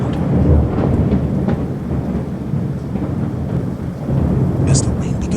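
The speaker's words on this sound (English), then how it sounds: "As the rain begins to fall," A thunderstorm rumbles with deep, rolling thunder over a constant wash of heavy falling rain, loud and continuous throughout.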